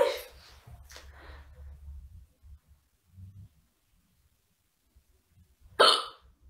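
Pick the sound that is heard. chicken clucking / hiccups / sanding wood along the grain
hiccups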